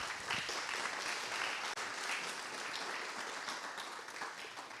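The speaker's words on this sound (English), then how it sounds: "A big round of applause." An audience claps for a speaker at an awards ceremony, a steady dense patter of many hands that fades slightly toward the end, heard at moderate level without speech.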